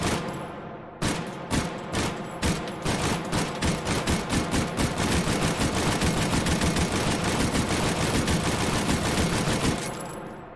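A Lewis gun machine gun fires in the H3VR game, a long continuous burst of loud, rapid shots with a steady, slightly slow cadence lasting nearly ten seconds before cutting off.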